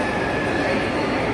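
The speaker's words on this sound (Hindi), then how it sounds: "अब हम आ गए हैं मेट्रो हॉल के अंदर और देखिए कि यहाँ पे ट्रेन भी है" A metro train inside a station hall gives off a steady, continuous rumble and hum that fills the space, with faint background voices mixed in.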